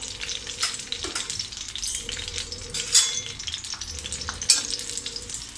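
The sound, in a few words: sautéing green chillies in hot oil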